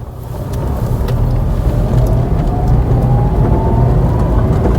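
A Nissan Magnite SUV with a small 1000 cc engine running on CNG drives along, its steady engine hum and road rumble heard from inside with a slowly rising tone as it accelerates, no talking.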